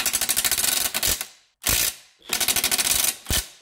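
A ratchet turns on the CV shaft of a 2006 Subaru Outback, giving fast, rapid clicking bursts in three short runs separated by brief pauses, close and loud with no talking.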